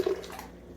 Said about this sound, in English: First thing I'm going to add to my blender is 1 cup of hot water just off the boil.